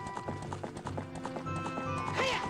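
Rhythmic horse hooves clip-clopping in The Legend of Zelda: Ocarina of Time, a steady run of hoof beats with a brief whinny-like sound near the end, alongside game music and no speech.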